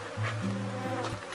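Honey bees buzz steadily around hive boxes during a flowering season, a close, continuous droning hum with a brief dip in pitch partway through and no voices.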